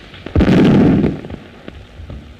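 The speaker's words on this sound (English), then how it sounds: "But what were those explosions? Shells, my dear." Artillery shells explode in a loud, booming burst with a rumbling roar that fades over about a second, followed by a few smaller distant thuds.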